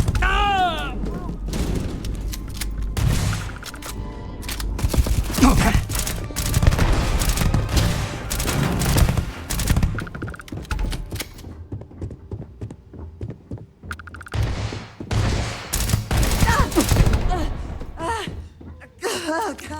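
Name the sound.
gunfire in Starfield video game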